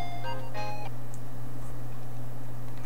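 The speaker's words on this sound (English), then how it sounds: "I take out my phone. I turn it on. And it rings just as I do." A short electronic phone ring tone in the Steins;Gate visual novel, a few bright beeping chirps lasting under a second over a steady low background hum.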